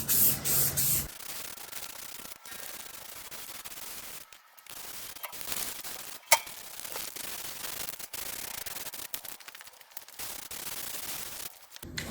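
Smoke gray paint hisses from a spray can onto an old media blaster in steady, fairly quiet bursts with short breaks between passes.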